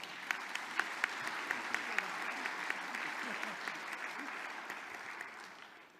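Steady applause from a crowd at a work health and safety awards ceremony fills the room, with sharp individual claps standing out near the start before the clapping slowly tapers off.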